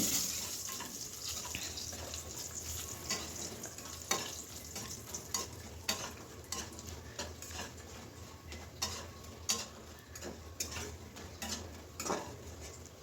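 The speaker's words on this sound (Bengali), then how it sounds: "বড়িটাও তেলে ভেজে নিতে হবে" Bori, small lentil dumplings, fry in oil with a soft, steady sizzle, broken by occasional sharper crackles and utensil scrapes as they are stirred.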